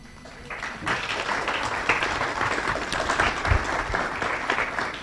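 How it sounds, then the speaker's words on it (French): A conference audience breaks into sustained applause for a speaker, many hands clapping in a dense, even wash that continues to the end. "que je vous demande d'applaudir"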